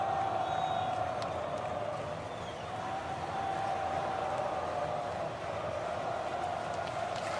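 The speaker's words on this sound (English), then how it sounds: "The crowd is going absolutely crazy." A crowd cheers steadily at a marble race, a dense continuous roar of voices with a faint whistle-like tone, holding level throughout.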